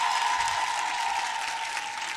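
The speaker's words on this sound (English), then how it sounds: "Merci d'applaudir Dikaël Yadé." Steady applause from a studio audience welcoming an artist on a French-language entertainment show, a broad, even wash of clapping over a faint sustained tone, holding level throughout.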